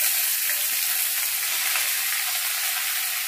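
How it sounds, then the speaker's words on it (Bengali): Chopped red amaranth leaves fry in a pan with dried red chili and garlic, a steady bright sizzle running unbroken and fairly loud close up, with no voices. "এবার কেটে রাখা লাল শাকগুলো এর মধ্যে দিয়ে দেবো।"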